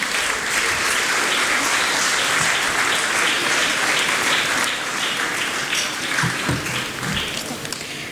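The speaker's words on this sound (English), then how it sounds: "May we have a thundering round of applause for Rishita Pal" At a girls' school end-of-term prize ceremony in Dehradun, a hall full of people applauds continuously and evenly for several seconds, a thick wash of clapping with no talking over it.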